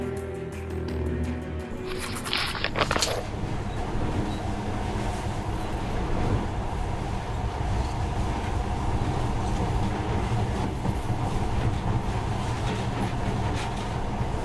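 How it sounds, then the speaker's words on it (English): A monorail train in the video game Metro Last Light Redux runs with a steady, loud mechanical rumble and rolling clatter that continues throughout, with a brief higher hiss near the start. "But now, this monorail seems magic, doesn't it?"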